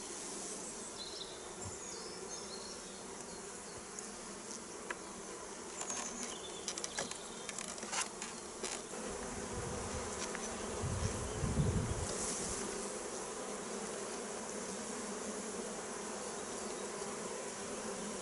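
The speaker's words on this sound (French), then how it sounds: "Il y a pas mal d'abeilles." A dense, steady drone of many honeybees buzzing around a hive frame during a spring artificial swarm split, close and continuous with a brief louder pass near the middle.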